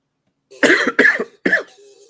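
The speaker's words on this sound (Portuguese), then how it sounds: "eu tô tossindo aqui" Three sharp coughs in quick succession, close and fairly loud, followed by a faint trailing breath.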